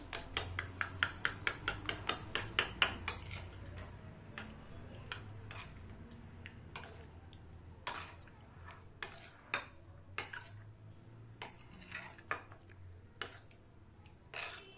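A spoon clinking rapidly against a bowl while yogurt is whisked into a smooth cream, quick steady taps at first, then slower scattered knocks, quiet and close.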